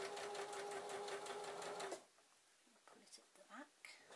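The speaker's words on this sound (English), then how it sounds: "I've stitched on the widest stitch, and now I'm going to pull this as I sew." Sewing machine running a wide stitch over elastic that is pulled taut while sewing, giving a steady fast mechanical whirr for about two seconds before stopping, followed by quiet handling noises.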